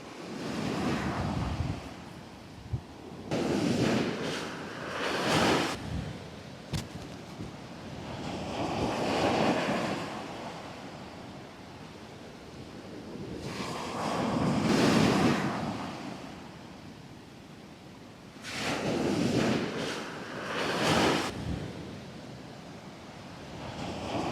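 Sea waves break and wash in slow repeating surges on a Costa Brava beach, with gusting wind buffeting the microphone throughout and no voices.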